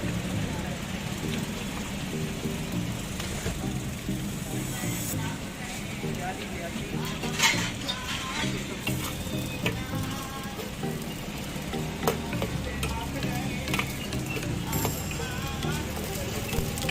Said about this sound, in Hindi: तो अब ये डाल रहे हैं इसमें चिकन गरम तेल में। तो अब ये फ्राई होगा।